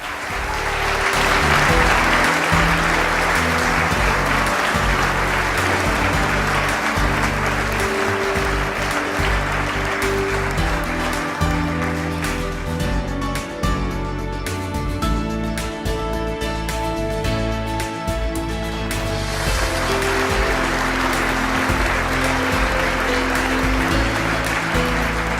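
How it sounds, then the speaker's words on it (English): Audience applauds an illustrator at a presentation, with a long, steady wash of clapping that holds at an even level, while a low, rhythmic tonal background hums beneath it. "Please applaud Mark Payton."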